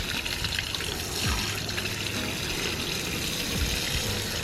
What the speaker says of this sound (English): let's go ahead and take our hose here, and now let's see it wash completely off